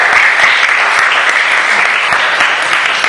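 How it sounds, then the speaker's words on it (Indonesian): Loud, dense applause from a church service congregation, a steady unbroken wash of many hands clapping throughout, close and full with no talk over it. "Tepuk tangan buat Tuhan Yesus"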